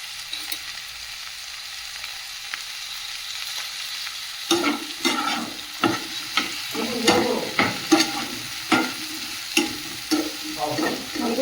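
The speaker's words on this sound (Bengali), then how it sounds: "কাঁকরোল ভাজাটা এদিকে চাপিয়ে দিয়েছি, লবণ আর হলুদ দিয়ে দেবো।" Spiny gourd (kakrol) fries in a pan with salt and turmeric, a steady oily sizzle that turns busier partway through as a spatula scrapes and stirs in uneven knocks, close and alone without talk.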